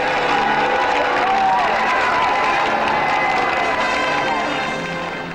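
Crowd at a rally for Oswald Mosley shouting and jeering in a dense, continuous roar of many voices, loud and close, fading slightly at the end.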